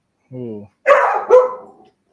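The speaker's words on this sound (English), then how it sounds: "My apologies for my dog barking." A pet dog barks indoors, giving two or three sharp, close barks in quick succession, preceded by a brief voiced "ooh" from a person.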